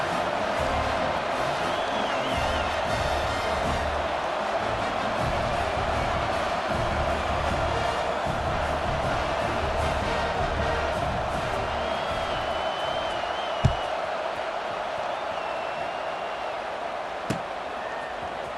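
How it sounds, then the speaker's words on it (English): Steady murmuring roar of a large stadium crowd in the College Football 26 video game, continuous and fairly even, with a couple of sharp thuds late on and faint whistles or cheers rising out of the din. "that last score took a little oomph out of this crowd"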